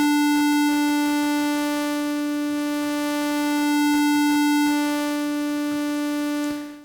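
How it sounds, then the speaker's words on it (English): A synthesizer note in Ableton Live is held steadily while its tone sweeps between a saw wave and a triangle wave. The bright, buzzy drone carries rapid clicking gated pulses and fades out at the end. "you can see the difference between the saw wave and the triangle wave. If I just hold down the note and I sweep between them"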